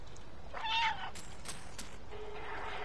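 A cat meows once in the video game Stray, a brief clear call followed by faint clicks and a soft tonal game sound, with no talking.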